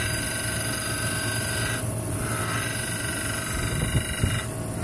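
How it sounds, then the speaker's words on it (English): An engine camshaft lobe being ground to reshape its cam profile, a steady close abrasive rasp with brief dips and shifts in tone as the grinder works the sides, front and back. "See, I'm grinding it, taking equal amounts off the sides, front and back."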